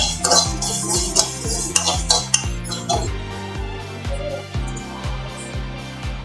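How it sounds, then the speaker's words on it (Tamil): Fenugreek and mustard seeds roasting in sesame oil in a pan for homemade tomato pickle, with repeated metal spoon clinks and scrapes against the pan over a steady background hiss. "நம்ம ஃபர்ஸ்ட் இந்த வெந்தயம் கடுகையும் நம்ம வறுத்துடலாம் ரைட்டா"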